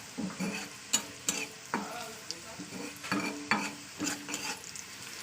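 Leftover rice fries in a pan for khichuri, heard as a soft background sizzle broken by repeated sharp spatula scrapes and stirring knocks at an irregular rhythm, close and fairly quiet.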